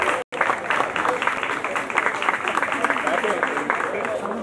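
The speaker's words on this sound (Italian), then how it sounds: "accogliamo con un grande applauso le miss" Applause at a pageant in a Foggia banquet hall as the contestants are welcomed, a dense, steady wash of many hands clapping together, loud and continuous after a brief gap at the start, with crowd noise mixed in.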